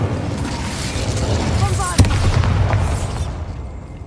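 Incendio fire spell cast in the Hogwarts Legacy video game, a single sharp burst near the middle over a steady rumbling game soundscape with some crackling, close and moderately loud.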